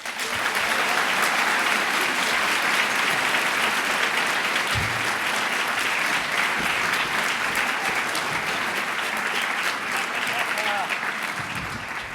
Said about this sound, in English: you have to adjust your applause accordingly